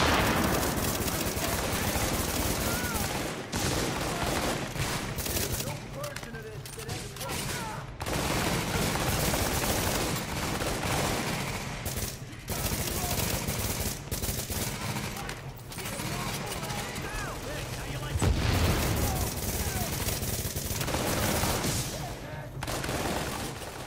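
Sustained gunfire battle in The Division on PS4, with dense bursts of automatic weapons and rattling volleys filling the mix almost continuously, broken by a few short lulls and occasional heavier booms.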